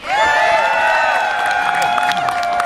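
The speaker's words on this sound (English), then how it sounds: "Please give a warm round of applause to our Lieutenant Governor, Ralph Northam." An outdoor advocacy-day crowd applauds and cheers for the Lieutenant Governor, steady clapping under high sustained whoops and calls throughout.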